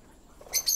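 Two brief, high-pitched bird chirps sound in quick succession at moderate distance against a quiet background in Singapore.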